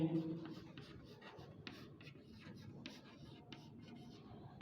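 Scratchy strokes of writing on a board as a truth table is marked out, coming in quick irregular bursts of short scrapes against a low room hum.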